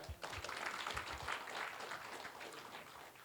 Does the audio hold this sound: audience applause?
yes